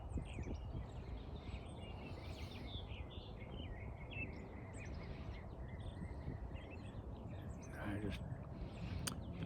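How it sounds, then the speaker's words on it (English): Faint birdsong chirps and trills in the distance outdoors, intermittent over a low rumble of background noise. "Been sitting out here listening to the birds singing"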